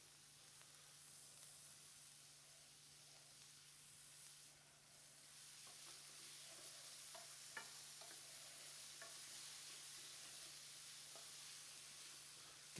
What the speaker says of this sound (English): And we'll saute these a little bit